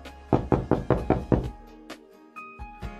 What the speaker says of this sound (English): Joseph knocks the next door and asks,